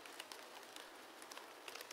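Steady rain falling on concrete, a dense even hiss of droplets with scattered brighter patters, close and continuous with no voices.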